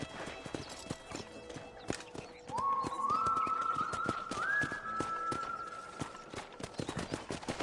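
Hoofbeats of a horse ridden in the Red Dead Redemption game on a ranch, a steady clip-clop rhythm with a rising musical tone over it. Short game voices come and go around it.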